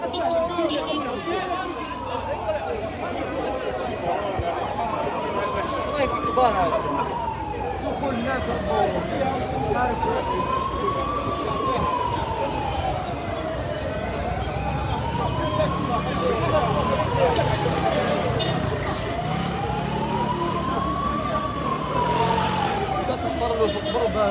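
A wailing ambulance siren rises and falls in slow repeating sweeps over traffic noise and crowd chatter, with voices talking throughout.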